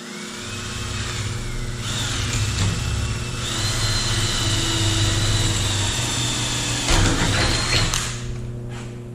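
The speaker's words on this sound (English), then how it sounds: "Alright, so here we go. Drill this guy." A cordless drill whines steadily at high pitch, its motor tone rising as it bites into metal, loud and close with no speech.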